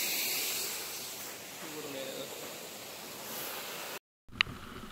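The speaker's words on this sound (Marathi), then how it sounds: "जोर जोरात पाऊस चालू आहे." Heavy rain falls as a steady, dense hiss close by, filling most of the clip before an abrupt cut and a brief sharp sound at the end.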